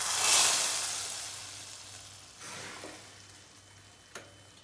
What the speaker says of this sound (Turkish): Şöyle az bir tarhunu yakacağız içinde.